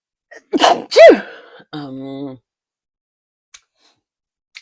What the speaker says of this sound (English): then I have to sneeze